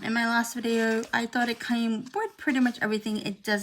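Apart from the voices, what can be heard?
No everyday noise stands out behind the speech.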